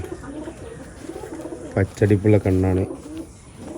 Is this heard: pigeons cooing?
yes